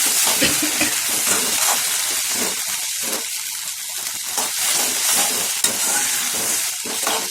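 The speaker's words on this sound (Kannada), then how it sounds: "ಅದು ಸ್ವಲ್ಪ ಸೋಯಾ ಸಾಸು ಸ್ವಲ್ಪ ಫ್ರೈ ಆಗಬೇಕು ಚೆನ್ನಾಗಿ" Mushroom manchurian with cornflour and soy sauce fries in a pan with a continuous close sizzle and hiss, broken by scraping stirring strokes and a sharp clink near the end.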